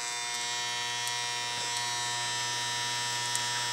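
Electric hair clippers run with a steady, close buzz while blending a tapered haircut, the hum continuous and even with a few faint brief snips of cutting, no talk over it.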